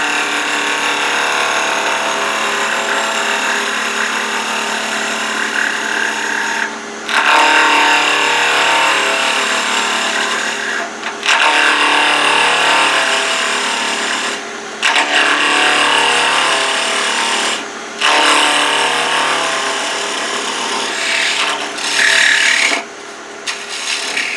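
A 3/8 inch parting tool roughs a spinning wooden chess pawn on a lathe, giving a loud, steady scraping rasp that runs on with several brief pauses between cuts and no talking.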